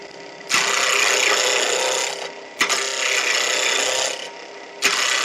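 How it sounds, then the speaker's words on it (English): A big roughing gouge cuts a small piece of wood spinning on a lathe at around 2000 RPM, giving three loud bursts of scraping separated by short pauses. "still using the big roughing gouge despite it being a small piece of wood"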